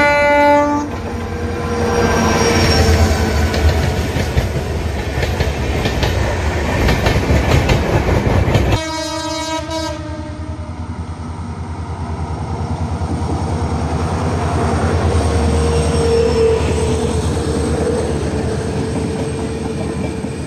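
An unreserved passenger train runs on the line out of Sangli and Kirloskarwadi, rumbling loud and steady the whole time, with long horn blasts in the first half and a softer continuing run afterward.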